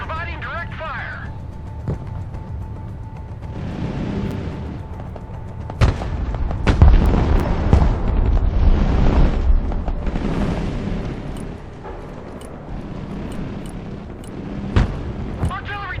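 Heavy weapons direct fire in the military strategy game Broken Arrow comes as booming artillery-like blasts, a few sharp reports and a rumbling stretch of explosions mid-way, under radio-style voice chatter.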